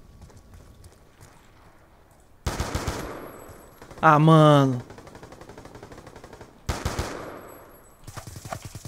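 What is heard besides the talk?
gunfire in a video game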